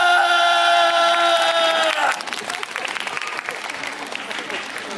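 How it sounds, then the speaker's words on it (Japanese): An audience at a Universal Studios Japan show claps as a wave passes across the crowd, with steady applause that drops off partway through and continues more thinly with a few scattered whoops. "よし、そしたらこっちの端から向こうに向かって拍手ウェーブ開始"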